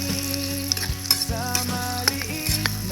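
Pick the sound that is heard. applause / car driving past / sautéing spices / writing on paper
sautéing spices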